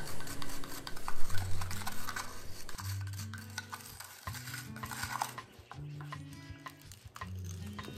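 A spoon stirs an activated charcoal mixture into thick hot process soap, producing soft wet scraping and rubbing against the pot, with occasional light clinks and a low background hum, fairly close and moderately quiet.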